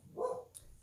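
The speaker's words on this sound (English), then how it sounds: "I don't know if y'all can hear my dog barking in the background." A dog barks somewhere in the background behind a closed door, a single short, fairly faint bark or yip standing alone with no talk over it.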